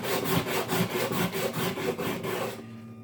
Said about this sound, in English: put it close to the edge of the table, and just sand, make it smooth.